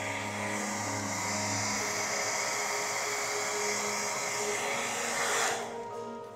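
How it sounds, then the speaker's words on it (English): A hair dryer drying paint on a portrait blows steadily at close range, a continuous loud whooshing hum with a motor whine, easing off briefly near the end. "What's with the hairdryer?"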